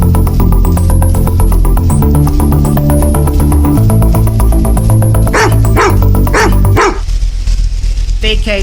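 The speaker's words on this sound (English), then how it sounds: "Police, I'll send the dog." A police dog barks loudly and close, repeated sharp barks over a dense, loud background, ending in a few final barks against quieter noise.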